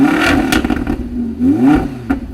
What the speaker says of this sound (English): The sound of this car is sheer, raw, and exhilarating power